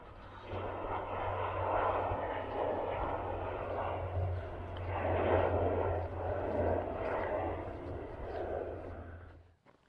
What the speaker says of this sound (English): Now to me just now looked more like a bomber or something.